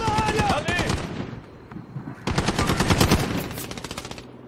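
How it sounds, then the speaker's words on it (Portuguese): Rapid automatic gunfire in the Warzone video game played on an Xbox One S, dense bursts of machine-gun shots in two volleys, loud and close. "Tá atirando de onde esses caras?"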